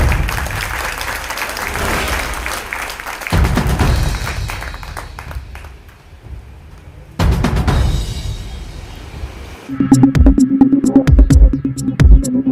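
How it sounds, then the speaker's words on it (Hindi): Loud applause fills the hall at a party leaders' conclave in Delhi, clapping in waves that fade and surge again, ending in sharper, heavier claps from a close crowd. "बस जोरदार ताली"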